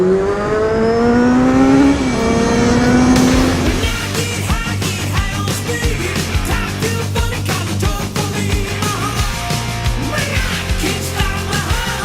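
A motorbike engine revs and accelerates hard on an off-road ride, a loud rising whine shifting through gears, then a steady buzzing drone with rhythmic pulsing, close to the microphone and with no talking.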